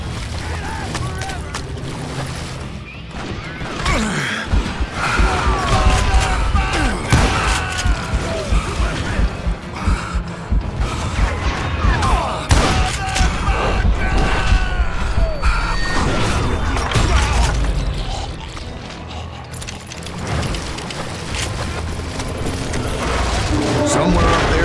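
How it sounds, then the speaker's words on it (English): Dense volley of gunfire from the Western shooter Call of Juarez: Gunslinger, bullets raining down from above on a Missouri hillside, a continuous crackling barrage layered with impacts and booms, with narrating voices speaking over it. "a fusillade of bullets come raining down from on high"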